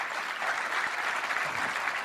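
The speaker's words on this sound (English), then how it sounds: "they deserve a round of applause, of course" Steady, even applause for winners at a virtual sustainability awards ceremony fills the whole moment without a break, moderately loud and uniform.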